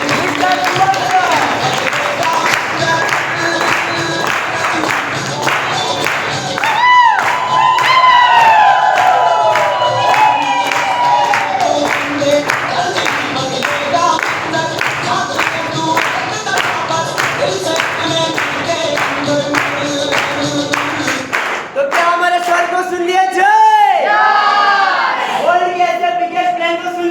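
A crowd at a live stage event bursts into loud, sustained applause and cheering to welcome a guest, with dense clapping and shouts throughout and a pause before the cheering resumes.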